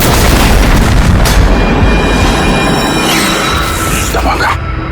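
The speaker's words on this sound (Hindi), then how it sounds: "धमाका।" A loud, sustained blast rumble with heavy low-end roar and debris-like crackle, fading slightly toward the end.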